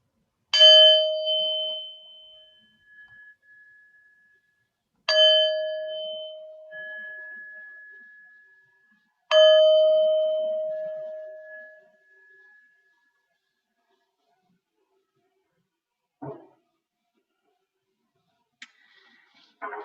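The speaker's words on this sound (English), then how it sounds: "So let's begin with 3 sounds of the bell." Three resonant bell strikes open a Zen meditation gathering, each ringing out alone and decaying slowly over several seconds in near silence, spaced about four to five seconds apart.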